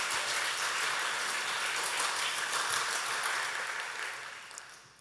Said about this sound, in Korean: 우리 뜨거운 박수로 환영하겠습니다.